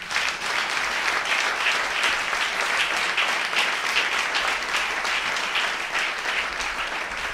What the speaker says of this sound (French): On applaudit bon Dieu.